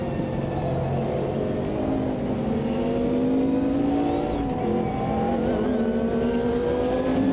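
Race car engine in Automobilista 2 revving steadily at high pitch for the whole stretch, with gear shifts and pitch rising and falling as the throttle is worked, loud and close with no talk.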